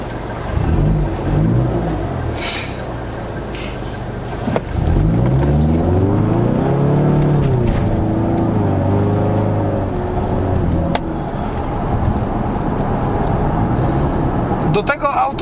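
A Ford Mustang with a 2.3 EcoBoost turbocharged four-cylinder engine drives along, its engine note rising and falling steadily through gear changes with moderate loudness, and no one speaks over it.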